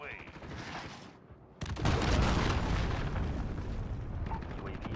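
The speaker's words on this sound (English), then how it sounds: "Allied cruise missile away." A cruise missile strike in Call of Duty: Modern Warfare hits with a sudden massive roaring explosion that swells and rumbles on for several seconds, following a short stretch of quieter battlefield ambience and a radio voice.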